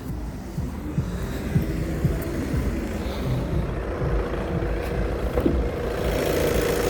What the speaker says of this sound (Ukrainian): Двигун працює тут, ну, як я наголошую, як швейцарський годинник.